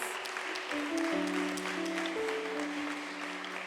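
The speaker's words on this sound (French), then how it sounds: "Je demande à l'assistance de l'applaudir chaleureusement, malgré son absence." A church congregation at Sunday Mass claps warmly, a soft, even patter filling a reverberant space, with faint sustained tones lingering beneath; no voices.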